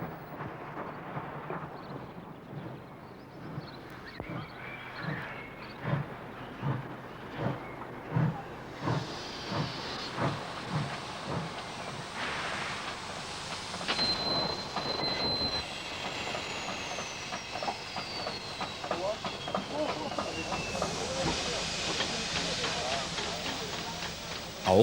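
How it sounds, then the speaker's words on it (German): Class 52 steam locomotives near Dresden, one hauling an arriving passenger train: rhythmic chuffs slow as it rolls in, then hissing steam and squealing wheels, with a voice talking over it. "Neben dem einfahrenden Dresdner Personenzug wartet eine weitere 52er mit ihrem Güterzug auf die Ausfahrt."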